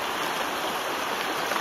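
River rapids on Bear Creek rush and splash steadily nearby, a dense, continuous white-noise wash of flowing water with no voices.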